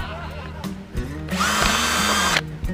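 A Bosch GSB 180-Li cordless drill set to speed two whirs briefly after some low handling knocks, its steady motor whine lasting about a second before stopping abruptly.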